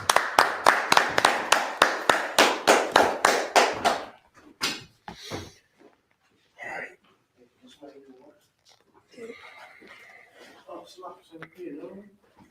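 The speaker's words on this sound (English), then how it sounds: "Go ahead and clap that up." At a Sabbath service, a congregation claps in a quick, even rhythm of about a dozen sharp claps, then stops, followed by scattered speech and a few soft knocks.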